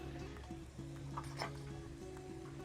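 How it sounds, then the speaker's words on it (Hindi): Tomato paste sizzles in a karahi pan of mutton karahi as it is stirred in, a steady faint frying hiss with soft spatters and occasional scraping under a continuous background hum. "एक कढ़ाई में टमाटर का पेस्ट शामिल कर देंगे"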